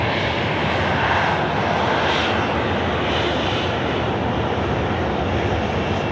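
A jet airliner in Qantas Retro Roo livery on flight 495 to Melbourne takes off from Sydney Airport at night, its engines a loud, steady broadband roar that holds throughout without a break.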